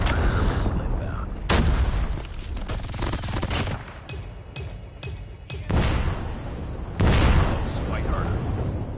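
Heavy predator missile blasts in the Call of Duty Mobile ranked Domination match: several loud booming explosions with gunfire crackle in between, and a voice speaking over the action.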